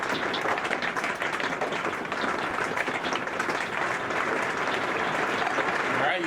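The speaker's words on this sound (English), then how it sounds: "That sound you hear is the rain on the roof of an RV." Steady rain drumming on the roof of an RV, a dense, continuous patter that stays loud and even throughout without any pause or talk.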